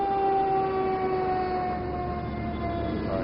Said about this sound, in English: There's a siren blaring.